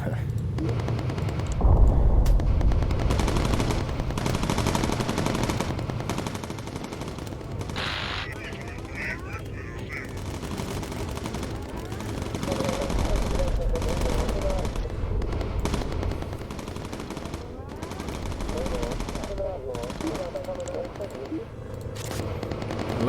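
Rapid bursts of machine gun fire from bomber turrets in the Bomber Crew air combat video game, loud and repeated in clusters among explosions and game effects, with a voice occasionally talking over the clatter.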